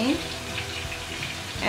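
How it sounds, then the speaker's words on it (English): Blended peppers hitting a hot pan with onion and other softened vegetables, giving a steady close sizzle and frying hiss that runs through the whole short moment, with a brief stir or clatter near the start and end. "So now I'm gonna add in the blended peppers."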